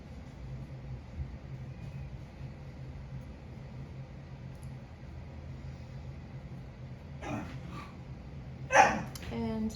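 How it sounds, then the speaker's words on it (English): A pet dog whimpers and cries faintly indoors, short whining calls rising near the end over a low background hum and distant noise. "I'm not sure why my dog is crying."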